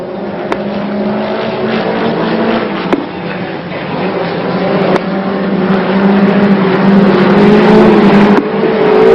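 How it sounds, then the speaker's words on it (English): Speedcars roaring around the Bendigo Showgrounds track in a 10-lap final, a continuous loud engine drone that swells and fades as the pack circles, with sharp clacks and crowd-like background noise. "It's a 10-lap final for the Speedcars."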